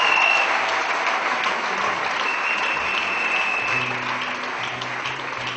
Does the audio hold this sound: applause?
yes